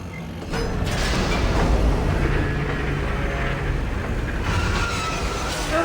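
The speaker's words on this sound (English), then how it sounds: "Tram collision detected." A tram collision in the sci-fi game Dead Space 3: a heavy rumbling rush of rail noise builds after a sharp onset and rolls on loudly and steadily, with a faint later swell.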